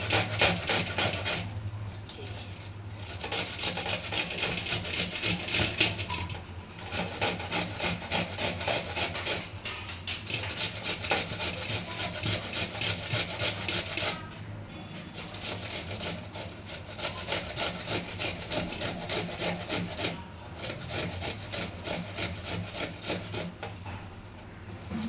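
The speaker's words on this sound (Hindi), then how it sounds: "मोटे छेद से इसे हम घिस लेंगे। ये हम प्याज ऐसे इसको मोटे मोटे," An onion is grated on the coarse holes of a hand grater while making spicy besan roll gravy: close, loud scraping strokes in a steady back-and-forth rhythm that runs continuously, with brief pauses every few seconds, and no voices.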